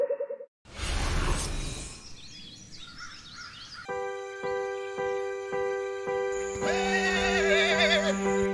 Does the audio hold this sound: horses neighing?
yes